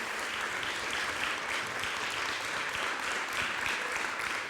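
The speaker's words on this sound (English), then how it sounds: "So give Freo a big applause" Steady, dense applause from a conference audience, sustained at an even level throughout with no pauses.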